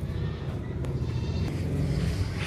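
A goat bleats softly in a pen while her kid drinks her milk; low, rough animal calls with faint farmyard rustling and no talking.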